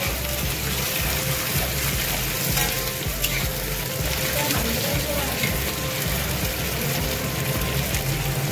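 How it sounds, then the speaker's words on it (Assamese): Onions frying in a pan, with a steady, continuous sizzle and crackle close by, with faint stirring beneath it throughout. "কিছু সময় পিঁয়াজখিনি আমি ভাজি ল'ম"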